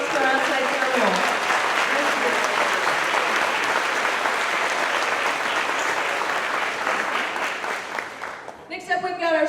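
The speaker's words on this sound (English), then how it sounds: "let's go ahead and make a round of applause for our outside terminal." An audience claps in sustained applause at a company's monthly celebration, loud and dense throughout, fading near the end as a voice begins to talk.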